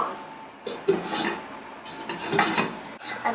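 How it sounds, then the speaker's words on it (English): A lid is set onto a cooking pot for one-pot rice, giving a few quiet metallic clinks and scrapes of cookware close by. "Now, put the lid on."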